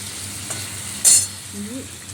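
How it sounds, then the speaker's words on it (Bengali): Chicken frying in a pan gives a steady, close sizzle. A brief sharp clink of a utensil cuts in partway through. "আজকে পালং চিকেন রান্না করব। চিকেনটা একটু ভেজে নিলাম,"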